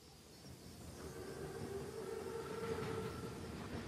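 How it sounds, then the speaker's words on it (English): A huge armored train in a World War II shooter game rolls past with a steady low rumble and rising hiss that swells slightly over a few seconds, heard at a distance with no voices. "Train's right on time. Biggest train I've ever seen."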